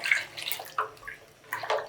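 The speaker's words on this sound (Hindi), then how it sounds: "1 जग आपने और पानी डाल दिया इसमें" Hot water poured from a jug into a pot of washed, soaked lentils for haleem, giving a close splashing pour with a few bursts over about two seconds.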